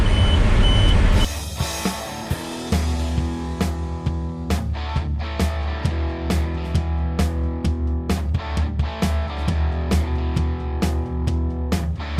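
A tow truck backs up in a parking lot to tow an Audi, its engine rumbling low while a reversing beeper sounds in a regular, repeated rhythm, close and clear throughout.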